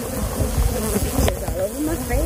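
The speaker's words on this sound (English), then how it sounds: "there's a lot of bees. A lot of bees here." Honeybees buzz loudly and close around a beekeeper at the hive, a dense steady drone with wavering pitches as individual bees pass near.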